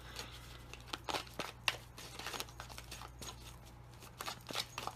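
Soft, crisp riffling and snapping of tarot cards being shuffled by hand during a reading, in quick irregular bursts close to the microphone over a low steady hum.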